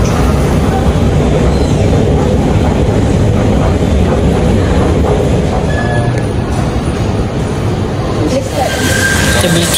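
An MRT train in Kuala Lumpur rumbles loudly and continuously, with wheel and track roar and a faint squeal, close by with talk mixed in.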